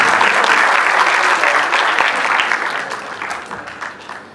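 A crowd at a Punjabi book award ceremony breaks into dense, loud applause that fades toward the end, with no speech over it.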